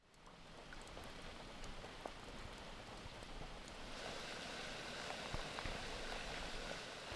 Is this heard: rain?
yes